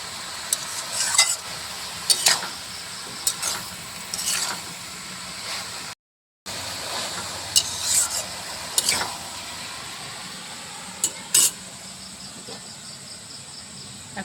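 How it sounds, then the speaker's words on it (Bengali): A spoon scrapes and stirs cabbage curry with fish head in a pan, giving intermittent scraping strokes over a soft sizzle, with a brief gap partway through. "আবারও নেড়ে চেড়ে দিচ্ছি।"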